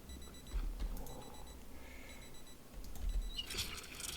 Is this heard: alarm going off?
yes